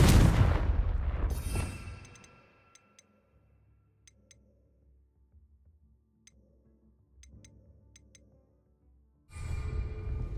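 Fire spell cast in the video game Hogwarts Legacy: a loud fiery blast opens and fades over about two seconds, sparse faint ticks follow in near silence, then a second strong burst erupts near the end.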